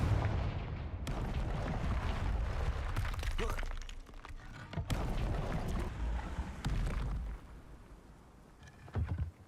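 Confringo spell explosions in the video game Hogwarts Legacy, a series of heavy booming blasts and crashes at close range, several sharp impacts spread across a loud, rumbling background, no talking.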